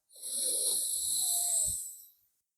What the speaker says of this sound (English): Breathe back in through the right nostril.